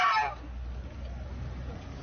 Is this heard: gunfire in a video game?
no